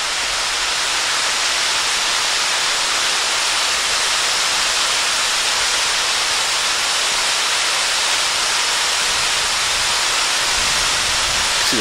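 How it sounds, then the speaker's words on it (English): A waterfall at Hickory Run State Park on the Shades of Death Trail, beside a reservoir, gives a steady, dense roar of falling water that holds unbroken and fairly loud throughout, with no voices. "See the waterfall right there"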